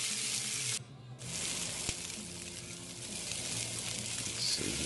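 USDA Prime rib eye steaks sear in a cast iron pan: a steady broadband hiss of sizzling fat fills the clip, briefly dipping near the start, with one faint click partway through.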